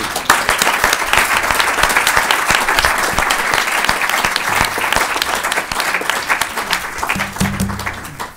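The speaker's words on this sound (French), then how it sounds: "Bravo, je pense qu'on peut applaudir." Loud, dense applause from an audience at a university agreement signing and research chair launch in Strasbourg, continuous many-handed clapping lasting over eight seconds before tapering slightly at the end.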